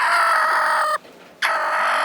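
Chickens cluck and squawk loudly and close by, a continuous harsh, tonal calling that cuts out briefly in the middle and then resumes just as strongly.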